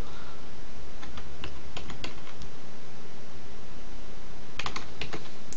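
Fast keystrokes on a computer keyboard click in short irregular bursts, close and clear over a steady background hiss, with a pause before a final quick flurry.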